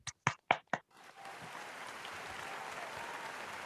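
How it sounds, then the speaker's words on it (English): A room of people applauds participants at a botany department debate for World Environment Day, steady continuous clapping that starts after a few separate claps and holds at an even level. "Let us give them a round of applause."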